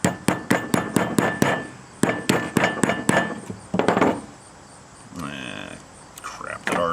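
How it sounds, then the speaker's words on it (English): Hammer pounding a cheap aluminum casting flat, rapid sharp metallic strikes in two quick bursts, then a pause and softer handling noises, with a voice speaking briefly near the end. "try to pound this flat so I can screw through it"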